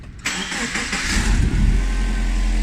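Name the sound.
car engine running with exhaust leak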